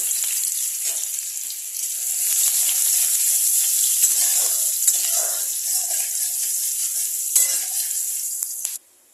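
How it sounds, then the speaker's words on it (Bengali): Chopped onions frying in hot oil in a wok make a continuous bright sizzle with faint clinks and stirring noises, holding steady before stopping suddenly at the end. "এই যে কড়াইতে তেল গরম হয়ে গেছে, কড়াইতে আমি এখন পেঁয়াজ কুচি দিয়ে দেবো"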